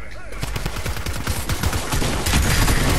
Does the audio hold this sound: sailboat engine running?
no